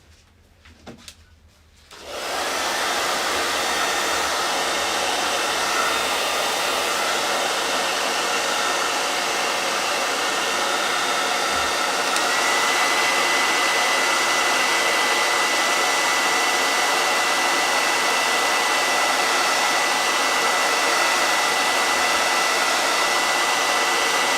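A hair dryer drying a chalk-painted craft project switches on after a brief pause and then blows in a loud, steady, close whoosh.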